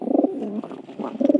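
A pigeon coos in a few soft, throaty rolling phrases, close and alone.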